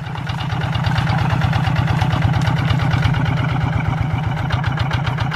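A Quick G1000 Boxer rice field tractor engine runs close by in a paddy field, a loud, rapid, evenly pulsing chug that holds steady throughout with no voices.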